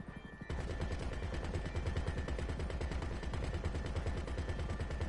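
Rapid machine gun bursts in GTA V, dense and continuous rattling shots at close range that keep going for several seconds after a brief quieter start.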